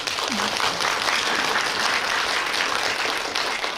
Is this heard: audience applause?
yes